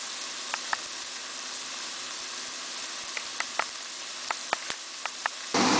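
Onions frying in oil beneath a splatter pan on a stovetop, a steady soft sizzle with scattered sharp pops and crackles, fairly quiet and close.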